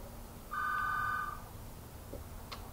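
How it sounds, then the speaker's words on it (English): A telephone rings once in a room, a short electronic trill of about three-quarters of a second, moderately loud over a steady background hum, with nobody speaking. "the telephone's ringing"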